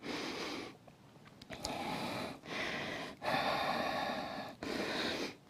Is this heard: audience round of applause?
no